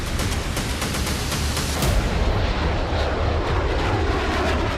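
A fighter jet roars overhead during the war in Ukraine, a loud sustained broadband jet roar with rapid pulsing at first, heard alone without talking.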